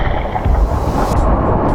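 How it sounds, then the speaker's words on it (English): Deep, continuous booming of heavy swell breaking around the Giant and Witch sea stacks in the Faroe Islands, a loud, dense low roar that rolls on without pause and with no voices. "You hear the booming of the waves at the back."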